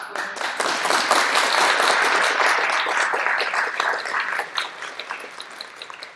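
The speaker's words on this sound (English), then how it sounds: "Guys are welcome to clap." Audience applause at an international celebration ceremony: loud, close clapping from many hands that holds steady, then tapers into sparser individual claps.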